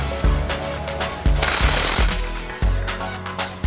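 Impact wrench hammering bolts tight to mount a race-proven limited-slip differential in a car, loud repeated rattling bursts close by with short gaps between them.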